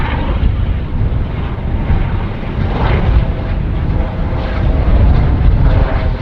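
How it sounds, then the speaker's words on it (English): An Airbus A321neo jet airliner roars loudly and steadily with a broad, rumbling engine wash, a powerful continuous blast close by as it takes off. "This should be an A321 Neo blast-off machine."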